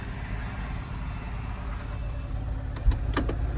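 Cars crawl through a traffic jam in Jalgaon, heard as a steady low engine rumble of idling and slow-moving vehicles, with a brief louder bump and some clicks near the end and no talking.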